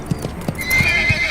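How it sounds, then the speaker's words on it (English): A rearing horse thrashes and whinnies, hooves clopping in a quick uneven rhythm before a shrill, drawn-out neigh rises up close and loud; no one speaks. "the boy's horse reared up and started thrashing around"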